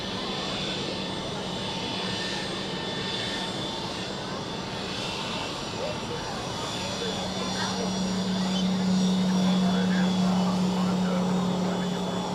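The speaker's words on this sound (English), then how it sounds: "we welcome a Swiss A321 from Rome Fiumicino to Zurich, taxiing here in front of us to the parking position" A Swiss Airbus A321 jet taxiing at Zurich Airport toward its parking stand at Terminal B during rush hour. Steady, close engine roar with a high whine that swells near the end, under faint talk.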